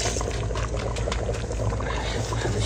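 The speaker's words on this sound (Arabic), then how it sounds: "الحين بحط العيش" Rice poured into a pot while making red chicken machboos: a loud, steady, unbroken rushing pour that fills the entire moment.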